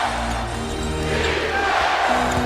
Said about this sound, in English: And this Staples Center crowd, boy, are they into this game.